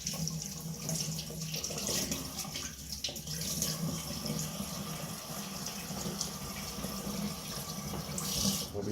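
Water from a tap runs steadily over cured salmon as the salt, sugar and herbs are rinsed off, a continuous close splashing stream with no voices.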